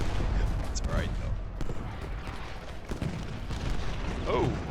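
Cannon and musket fire in the Civil War strategy game Ultimate General Gettysburg: a continuous rumbling battle din of distant booms and crackling volleys, fairly quiet, with someone talking over it.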